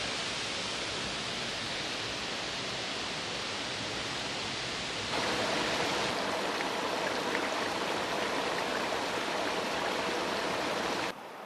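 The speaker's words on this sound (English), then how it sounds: "you come across a gully like this with a gentle stream twinkling its way through ancient trees" A gentle stream trickles and splashes through a wooded gully among ancient trees in Bhutan, a steady broadband rush that grows noticeably louder and closer partway through, then drops back slightly at the very end.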